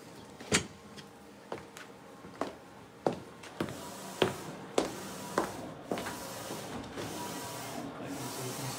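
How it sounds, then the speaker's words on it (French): A DTF printer runs with its powder shaker going, giving a steady mechanical hum broken by sharp, regular clacks roughly every half second to second, close and moderately loud, with no one speaking. "Je lance l'impression, je mets la machine, la poudreuse en route."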